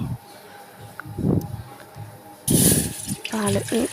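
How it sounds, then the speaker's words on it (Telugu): Water gushes into a pot in a loud stream near the end, after a few quieter clinks and soft kitchen noises. "మరో స్టవ్ పై గిన్నె పెట్టుకొని వాటర్ పోసుకోవాలి"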